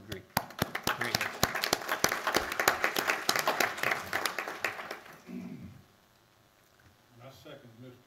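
Applause from a room of attendees at a school board meeting, many hands clapping together for about five seconds. The clapping then stops abruptly, and a few faint voices and low murmurs follow.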